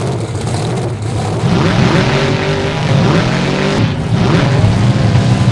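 A monster truck engine roars and revs on a time attack course in Jacksonville, loud and close, with surging acceleration and shifting pitch throughout.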